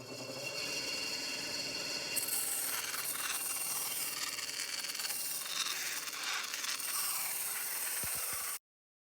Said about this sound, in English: Okay, I laid in all the clay and smoothed it out.